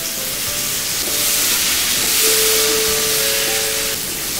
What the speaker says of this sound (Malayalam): തക്കാളി ഇട്ട് നന്നായിട്ട് ഇളക്കി ഒന്ന് വഴഞ്ഞ് വന്നിട്ടുണ്ട്.